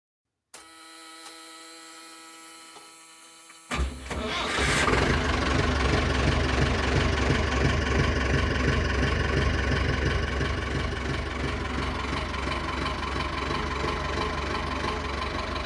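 After a brief electrical whine, a diesel tractor engine with a recently refurbished injection pump cranks and catches, then settles into a steady, rumbling idle that continues close by.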